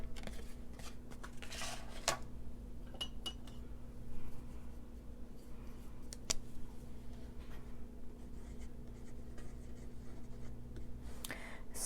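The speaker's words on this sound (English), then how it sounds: "I'm going to write this down." Pen scratching on paper while measurements for a handmade lip balm holder are written down by hand, a faint, steady scribble with occasional small taps over a low constant hum, no talking.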